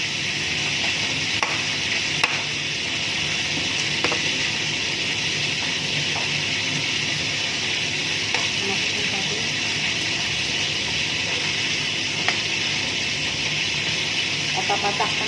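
Chili dropped into a pan of hot oil while stingray is cooked, giving a steady close sizzling hiss with occasional stirring clicks and a faint voice underneath.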